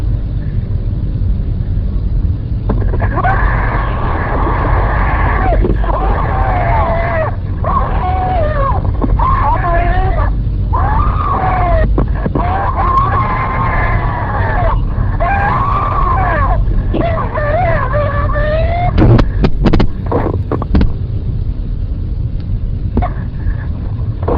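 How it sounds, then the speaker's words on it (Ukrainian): Screams and rustling during an attack on an elderly woman living alone, captured on a 911 call recording; strained, wavering voice-like cries come and go over a steady low rumble and scuffling noise, with a few sharp bursts near the end. "Ці звуки, крики і шорохи стали останнім сигналом лиха."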